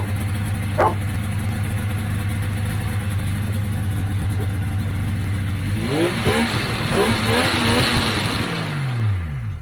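A rebuilt engine on a 1995 XLT snowmobile runs at a steady, close, rumbling idle, then revs up in several quick throttle blips before settling back down.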